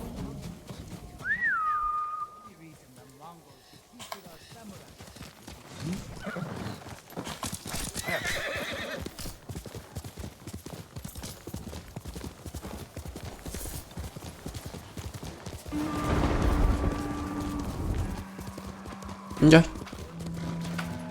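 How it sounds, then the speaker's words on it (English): A horse in the Ghost of Tsushima video game whinnies and clip-clops along, hoofbeats running under game music and a character's voice, with a sharp neigh near the start and louder movement later. "Horse!"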